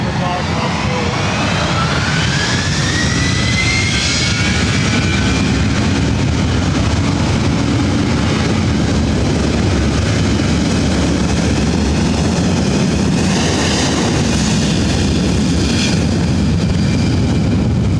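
A Boeing 757-300 jet takes off from runway 24 right at LAX, its engines a loud, steady, broadband roar held throughout, with faint rising whine tones and radio chatter mixed in.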